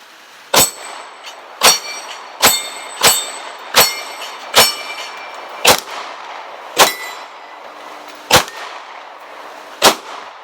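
A Beretta 92FS pistol fires about a dozen sharp shots at a metal target, each crack followed by a bright metallic ring, spaced unevenly about a second apart and loud throughout.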